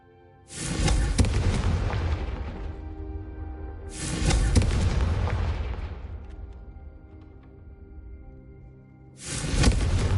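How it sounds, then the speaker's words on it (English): Hogwarts Legacy Confringo fire spell cast three times, each a sudden loud booming burst that rings out and slowly fades, the bursts several seconds apart. "a Confringo cast travels a bit farther than that of a spell like Incendio"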